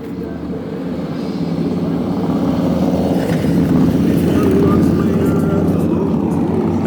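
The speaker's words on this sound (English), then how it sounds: "Here come some loud motorcycles." A loud rumble of motorcycles passing close by on a street in Old Town Temecula, California, building steadily in volume and staying loud throughout.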